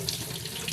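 Water gushes steadily from a household faucet fitted with a newly installed tap filter, a close, continuous splashing stream with no voices.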